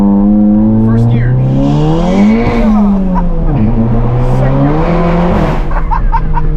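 EQT IS38-turbocharged MK7 GTI accelerating hard in first gear, engine note climbing loudly in rising sweeps with shift breaks, close and dominant over road noise.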